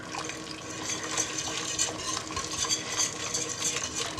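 A spoon stirs spices into a pot of cheese-leek soup on a stove just switched off, a soft, steady swishing with light clinks of metal against the pot, close and fairly quiet, with no voices.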